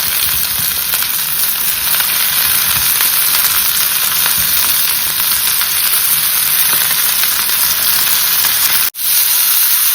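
Broccoli added to softened onions in a pan fries with a loud, dense, continuous sizzle and hiss, broken by a brief dropout near the end.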